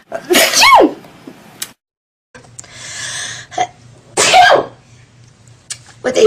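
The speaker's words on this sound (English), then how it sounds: "I'm about to sneeze, I think." A person sneezes loudly and close up, with two strong bursts separated by a short pause and quieter breathy sounds around them.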